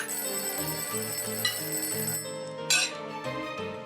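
A telephone bell rings in a house in repeated trilling bursts, fairly clear and moderately loud, with brief gaps between rings and no voices.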